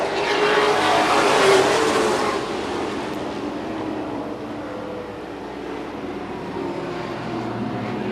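Race cars roar around a track at a local stock car race, a loud engine surge passing near early on, then a steadier distant drone of cars circling.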